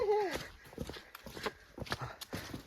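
Horses on a forest trail in Nepal's hills step along with irregular, fairly close hoof clops, while a voice calls out over them at the start.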